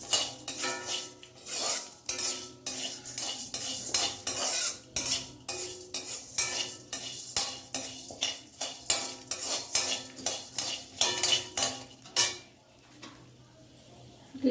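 Black urad dal and spices dry-roasting in a pan for a coriander pickle, stirred with a metal spoon: a steady run of rhythmic scrapes and clinks against the pan, close and fairly loud, with a quieter pause at the end.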